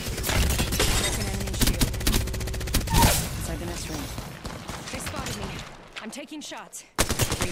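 Rapid automatic gunfire in the video game Apex Legends, loud fast bursts of shots for about three seconds, then scattered shots and game effects tapering off before a final sharp burst.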